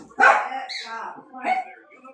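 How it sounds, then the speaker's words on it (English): A dog barks nearby, loud and close, with two bursts a little over a second apart. "It's hard to talk over a barking dog."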